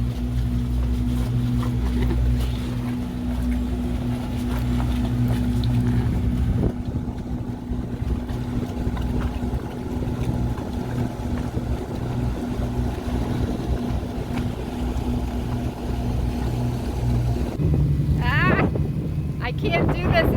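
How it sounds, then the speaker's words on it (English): Military boats pass at speed near the Emerald Isle causeway, a loud, steady engine drone with heavy wind buffeting the microphone and a brief voice near the end. "Looks like we have some military boats that are passing us."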